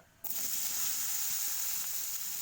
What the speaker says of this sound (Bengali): ডুমুরগুলো ছিল, আমি একটু হালকা জাস্ট স্লাইড ফ্রাই করে নেব।